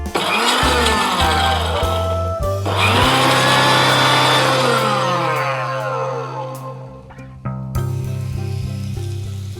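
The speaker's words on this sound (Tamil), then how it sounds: "கருவேப்பிலையை அரைச்சிட்டோம்" A mixer grinder whirs loudly as it blends curry leaves with garlic cloves and green chillies. The motor runs in a few pulsed bursts that stop and restart, close and with no talking.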